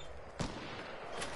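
Video-game gunfire: a single sharp gunshot crack stands out near the start of a quiet, low-level game soundscape, followed later by a fainter second report.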